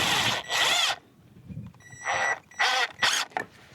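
Power drill driving pocket screws at an angle into a wooden board for a gate, heard as several short, loud whirring bursts separated by brief pauses.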